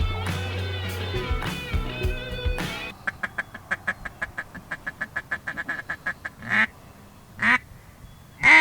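Ducks quack in a regular series of short, fairly close calls during a youth duck hunt, following a loud stretch with a few sharper bursts toward the end.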